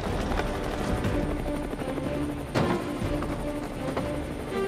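An Indian Air Force helicopter on a resupply flight drones over a supply drop zone on a high-altitude battlefield, a faint, steady, distant rotor hum with a brief thump partway through.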